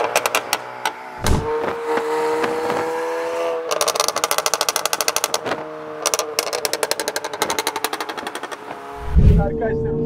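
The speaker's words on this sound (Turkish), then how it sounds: "Arabanın motor deviri düşerken pata pata pata pata diye ses yapıyor." A car's engine revs up and drops while the exhaust pops and bangs in rapid, machine-gun-like bursts, loud and close, with a deep rumble near the end.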